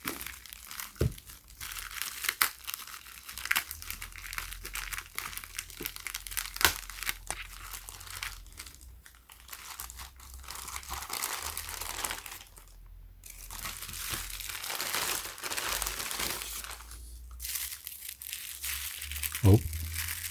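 Crinkling and tearing of a taped-up package holding a Lenox ballerina musical jewelry box, with irregular crumpling rustles across the whole stretch and a sharper rip near the end.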